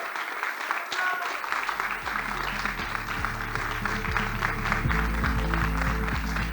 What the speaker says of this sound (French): je vous demande d'accueillir sous vos applaudissements Lamia Chouk